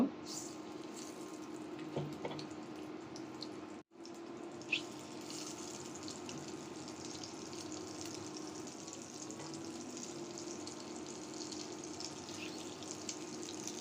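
Eggs frying together in a little hot oil in a frying pan, a low steady hiss and sizzle that runs on throughout, broken by one brief dropout and a small clink.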